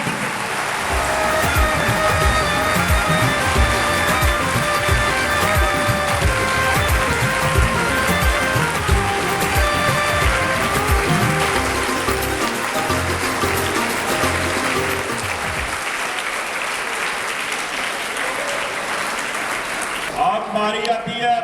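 A school audience at an annual results ceremony applauds the first, second and third place students, a dense sustained clapping that fills the room for about fifteen seconds before fading out.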